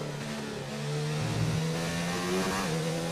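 A McLaren Formula 1 race car engine in a racing video game, a loud high-pitched whine that rises and shifts with revs as the car accelerates, steady throughout.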